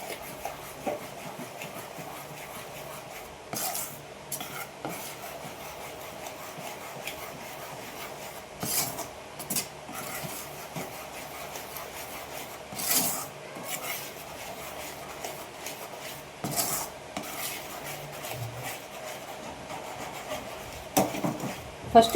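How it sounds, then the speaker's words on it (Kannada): Karadantu mixture is worked together in a bowl, giving quiet, intermittent scraping and rubbing strokes with occasional louder scrapes over a faint background. "ಈ ಥರ ಯಾವುದೇ ಗಂಟು ಇಲ್ದಂಗೆ ಚೆನ್ನಾಗಿ ಮಿಕ್ಸ್ ಮಾಡ್ಕೊಳ್ಳಿ"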